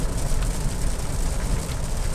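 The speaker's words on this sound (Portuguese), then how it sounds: "E dá-lhe chuva, é isso aí." Rain falls during a drive in a Nissan Frontier Platinum pickup, a loud, even wash of noise blending drops with low road and cabin rumble, continuous throughout.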